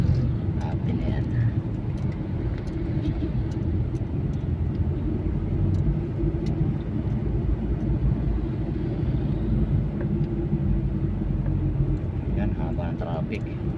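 Dense road traffic heard from inside a ride-hailing car stuck in a jam: a steady low rumble of engines and tyres throughout, with faint horn-like tones here and there and no clear speech.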